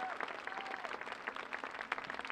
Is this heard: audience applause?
yes